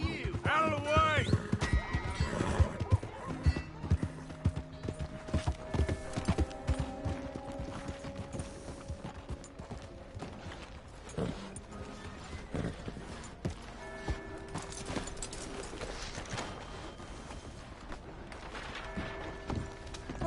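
Horse hooves clip-clop in Red Dead Redemption 2, with a quick rhythmic series of moderate hoofbeats at the start and scattered game sounds and faint voices continuing underneath for the rest.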